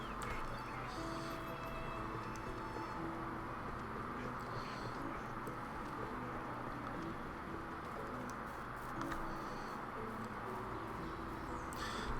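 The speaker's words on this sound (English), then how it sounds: "Yeah, that's nice ducks." Ducks quack repeatedly in the video game Medieval Dynasty, scattered calls over quiet outdoor ambience with other birds, faint and somewhat distant, with no speech.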